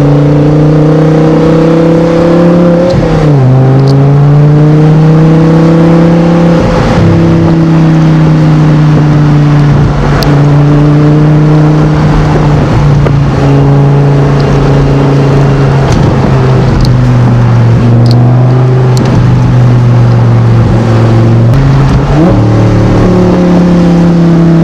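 A tuned Audi R8 engine revs loudly and close up, its deep harmonic note climbing and dropping through repeated throttle blips and sustained revs, with no talking.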